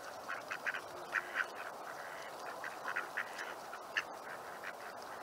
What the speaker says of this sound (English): Quacking away, Mindy.